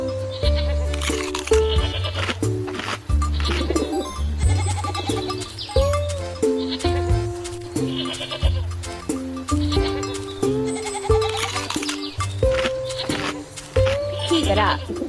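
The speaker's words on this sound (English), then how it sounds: "Meet our goats." Cartoon goats in a preschool farm video game bleat repeatedly over a bright, busy musical backing, each call short and wavering, loud and close.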